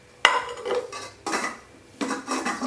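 A metal lid set onto a Vinod 18 cm stainless steel saucepan, three clanking metallic contacts close by with a brief rattle as it settles.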